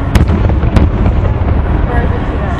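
Fourth of July fireworks in Seattle burst in two sharp booms near the start, then a rumbling crackle trails off while people chat nearby.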